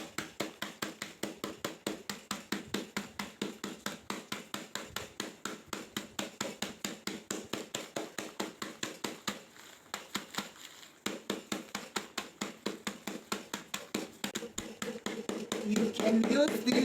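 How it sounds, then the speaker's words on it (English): Charcoal pieces are crushed with a rolling pin in a fast, regular run of sharp close knocks and crunches that continues steadily, with a brief pause partway through and heavier grinding near the end. "I'm going to grind them using a rolling pin"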